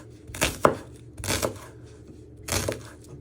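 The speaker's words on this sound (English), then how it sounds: "then you're just chopping it" A knife chops a shallot into pieces on a board, three distinct bursts of sharp cutting thuds spaced about a second apart, close and clear with no talking.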